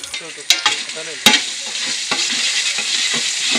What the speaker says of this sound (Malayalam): അതിലേക്ക് നമ്മൾ എടുത്തു വെച്ച ബിരിയാണി മസാലകൾ മുഴുവൻ ചേർത്ത് കൊടുക്കുന്നു.